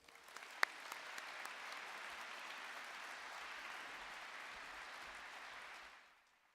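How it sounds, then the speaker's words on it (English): Sustained audience applause at a SkillsUSA Nebraska state leadership conference opening ceremony in 2018, a steady dense wash of clapping lasting about six seconds before cutting off abruptly. "Please give Corey a big round of applause."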